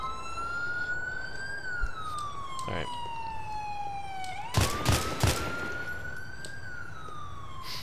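A wailing ambulance siren in a video game rises and falls steadily throughout, with game traffic noise and a few sharp crashes midway; a voice speaks briefly.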